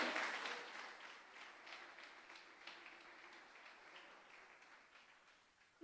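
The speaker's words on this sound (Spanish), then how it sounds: "¿Cuántos pueden darle un aplauso al Señor?" A church congregation's applause trails off from a brief burst into scattered faint claps in a quiet hall, ending in near silence.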